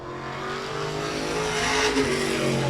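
Race car lapping Claremont Motorsports Park, engine roaring steadily and building slightly in pitch and loudness, close and continuous with a brief tire note near the end, no voices.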